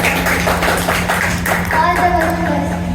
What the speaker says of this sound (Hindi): यू गो खुशी, सब लोग जोरदार तालियां मेरी सहेली से के लिए बजाएं।